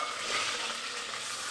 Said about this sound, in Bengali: তেল দিয়ে দিয়েছি, এবার তেলটা গরম হবে। এবার আমি এর মধ্যে ক্যাপসিকাম দিয়ে দিলাম।